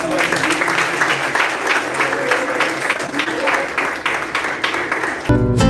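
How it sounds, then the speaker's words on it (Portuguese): A church congregation breaks into sustained applause for the pastor, steady dense clapping that fills the space, ending in a brief abrupt burst of noise. "Receba o pastor com palmas"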